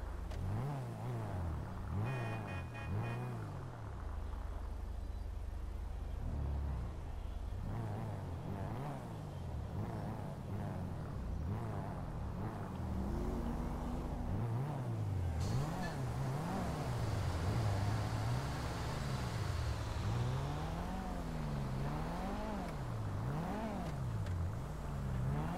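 A Dinka Blista Compact, a small car based on the Honda CR-X, drives in a GTA game. Its engine revs up and down repeatedly through gear changes and holds a steady, close drone. No one speaks.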